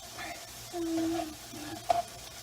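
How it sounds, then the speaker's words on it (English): Shrimp and onions stirred in a sizzling skillet for a Cajun dish, a soft frying hiss with a short scrape of the utensil against the pan, close and alone. "mix this up a little bit."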